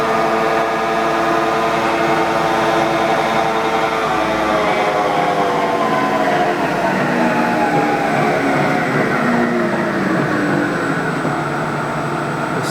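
A Southwest TRAK TRL 2460SX lathe runs its spindle at a steady 600 RPM, giving a loud, continuous mechanical whine and hum with no talk over it.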